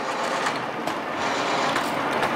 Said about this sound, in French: Je mets ma fraise en route et je vais tangenter ma fraise sur ma pièce